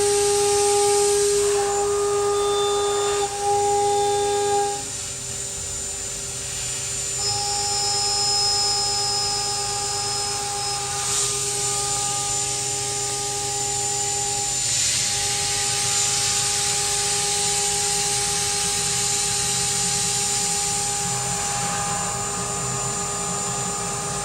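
A milling machine cutting with steel inserts gives a steady mechanical whine, with sustained tonal pitches that shift and change as the cut progresses. The sound is continuous and moderately loud, with no talking.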